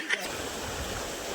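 Heavy monsoon rain pours down steadily outdoors, a broad, even hiss of falling water that fills the whole stretch after a brief bump at the start.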